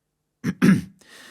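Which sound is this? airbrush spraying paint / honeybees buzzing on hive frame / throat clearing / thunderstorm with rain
throat clearing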